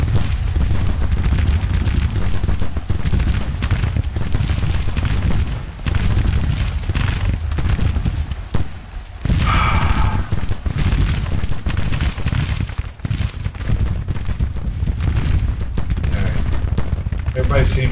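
Artillery battery firing at point blank amid a Civil War battle in Grand Tactician, a relentless loud roar of booming cannon and crackling musketry that continues for the whole stretch, with someone talking over it.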